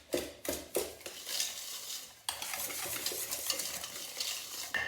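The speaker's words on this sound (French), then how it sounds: "Alors le beurre, le sucre. On va bien mélanger l'ensemble." Butter and sugar being mixed by hand for a flourless chocolate cake, with a few sharp scrapes and taps of a utensil against a bowl at first, then a steady close, continuous scraping and beating.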